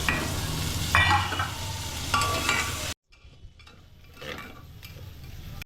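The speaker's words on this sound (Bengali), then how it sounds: "পেঁয়াজ আর রসুনটা ভাজা ভাজা হবে।" Chopped onion and garlic fry in a pan with a close, bright sizzle, broken by a few bursts of stirring, then a quieter stretch where the frying sounds softer.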